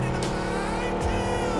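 A car driving in BGMI, a steady engine drone with a whoosh of passing movement, continuous and fairly close, with no talk over it.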